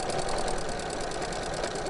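Sewing machine stitching a Christmas stocking on a bouncy table, a fast continuous mechanical whir with steady rapid needle clatter, close and fairly faint, no talking.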